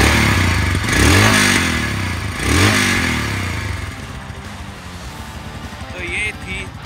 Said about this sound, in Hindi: एक बार रैप करके भी सुना देता हूँ